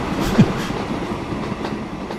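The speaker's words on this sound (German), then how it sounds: "Gut, der Zug verlässt uns hier wieder." A train passing in the railway building game Train Fever, a steady rumbling rush of rolling wagons with faint rhythmic clacks, continuous and fairly loud, with no talk.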